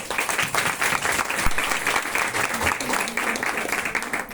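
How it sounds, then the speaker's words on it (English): An audience at an International Women's Day celebration applauding steadily and loudly, dense clapping sustained throughout with no pauses. "I just want you all to clap for yourself bit louder"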